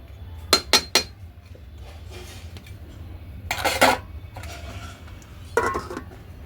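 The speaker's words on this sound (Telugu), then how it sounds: "ఇప్పుడు మూత పెట్టుకుందాం" Metal pot lid set down on a cooking pot over a wood-fired stove while preparing drumstick and raw mango pulusu, several sharp clinks and clatters close by, with a steady low hum underneath.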